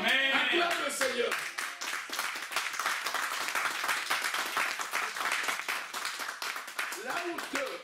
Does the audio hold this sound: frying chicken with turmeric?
no